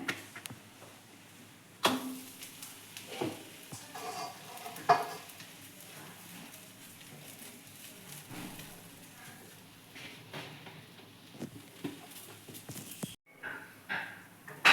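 Methi thepla flatbread frying in oil on a pan, a faint, soft sizzle with scattered light crackles and occasional scraping taps.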